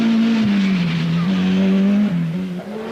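Peugeot 205 rally car at the 1000 Lakes Rally in Finland, its engine droning loud and steady close by, pitch dipping and rising through gear changes, with possible tire skidding mixed in.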